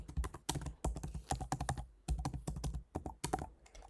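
Close, loud keystrokes on a computer keyboard as a new password is typed, coming in quick irregular bursts with short pauses between them and no voices.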